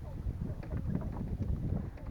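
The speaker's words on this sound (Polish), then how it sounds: "wiaterek teraz w noc zaczyna wiać znowu" Steady night wind rushes and buffets against the microphone in a low, continuous roar, with faint water movement underneath.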